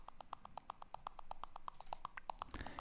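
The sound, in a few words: clicky percussion in a melodic techno track outro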